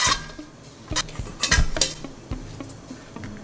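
A utensil stirs cornstarch into dry ingredients in a bowl, making light scraping and soft clinks against the bowl in an uneven rhythm, close by.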